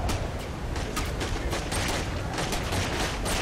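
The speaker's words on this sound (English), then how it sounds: "I'm shooting this guy down." Continuous rapid gunfire in Saints Row IV rattles loudly throughout, a dense fusillade of overlapping shots with booming low rumble and no pause.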